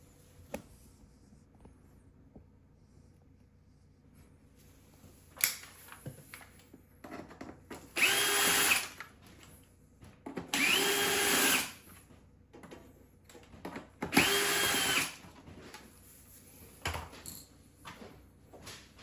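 A power drill backs out screws from the housing of a GE Opal 2.0 nugget ice maker, in three loud whirring bursts of a couple of seconds each, separated by quieter handling clicks and taps.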